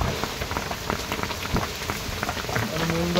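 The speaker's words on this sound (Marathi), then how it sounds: "आज खूप पाऊस आहे आज, कारण खूप पाऊस लागला" Heavy rain pours down steadily outdoors, a dense, continuous hiss of drops drumming on surfaces close by, with faint low rumbling and a brief tonal hum toward the end.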